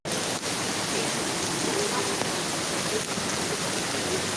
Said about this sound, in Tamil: மழை அதிகமாகிறது.